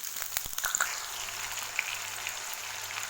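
Potatoes fry in hot oil seasoned with panch phoron spices and green chilli, a steady close crackling sizzle with a few sharper pops near the start, heard alone.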